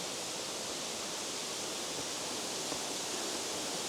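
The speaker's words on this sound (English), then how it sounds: "we're going to sit down here and have a listen to the waterfall" A waterfall on Dinghu Mountain roars as a steady, dense wash of rushing water, loud and unbroken throughout with no voices.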